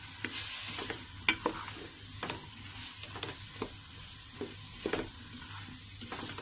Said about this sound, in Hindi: इसके साथ भून रही हूँ, फ्राई करूंगी